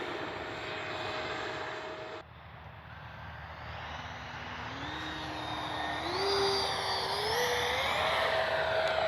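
A Freewing L-39 80mm electric ducted-fan RC jet flies on an evening outing. Its whining fan note holds steady and then climbs in pitch as it passes, moderately distant, with no talk over it.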